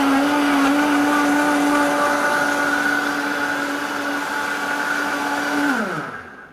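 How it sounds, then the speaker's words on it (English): A blender whirls a yogurt sauce in a home kitchen, its motor whining loud and steady for about six seconds before spinning down to a stop, with no talking. "we're just going to put this on the blender."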